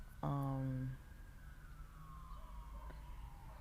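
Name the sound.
distant emergency vehicle sirens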